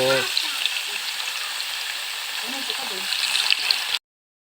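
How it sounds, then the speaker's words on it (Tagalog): Meat sizzles in a pan with garlic and onion, a steady close hiss of frying throughout, with low voices talking briefly at the start and again near the end. "Gisa natin yung karne. Magprito na tayo."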